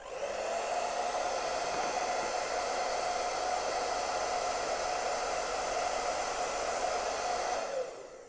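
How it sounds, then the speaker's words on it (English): A hair dryer on its lowest fan setting blows over watercolour paper, a steady airy whoosh held for about eight seconds before it cuts off near the end. "even though my hair dryer was on the lowest setting, this area here just got a bit drier"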